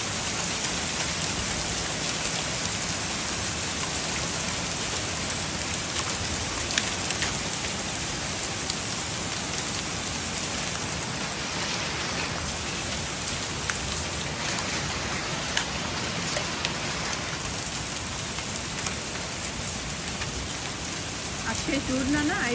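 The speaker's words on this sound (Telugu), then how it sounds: "వాన చూడండి ఐస్ ముక్కలతో పడుతుంది అన్నమాట" Heavy rain mixed with hail pours down on plant pots outdoors in Clarksburg, Maryland, a dense, constant hiss with scattered sharp taps, steady and close throughout.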